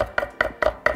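A knife chops parsley finely on a board: five sharp, evenly spaced cuts in quick succession, close and clear with nothing else heard.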